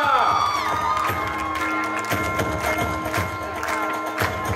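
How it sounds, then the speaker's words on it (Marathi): A crowd of college students cheers and shouts at a prize ceremony, a loud sustained roar with whoops and scattered clapping filling the open campus grounds. "जल्लोष होऊन जाऊ द्या"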